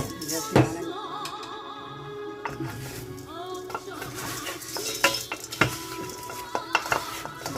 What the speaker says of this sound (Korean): 과자에다 엿을 묻혀서 옷을 입히는 거니까